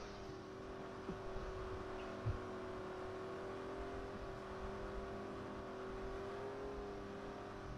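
NASCAR Ford truck in Forza Motorsport 4 racing toward turn 3, a steady sustained engine drone holding one pitch with a faint whine, mid-distance, with no voices over it.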